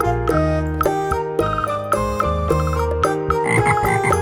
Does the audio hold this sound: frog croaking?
yes